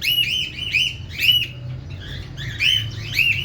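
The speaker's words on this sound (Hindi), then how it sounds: "यहाँ पे आज ये बात नहीं करने दे रहे आप लोगों से यार, इतना शोर कर रहे हैं ना कॉकटेल।" Cockatiels in a breeding setup chirp and whistle in repeated shrill bursts, several calls overlapping in quick, uneven rhythm, close and loud with no talking.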